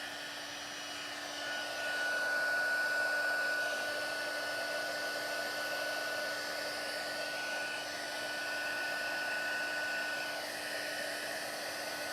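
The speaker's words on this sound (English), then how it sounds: "Take your heat tool." A craft heat tool blows hot air in a steady, soft whoosh with a faint high whine, running continuously at low volume with no talking.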